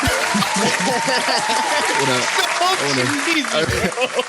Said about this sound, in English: Let's give a round of applause to Face Club.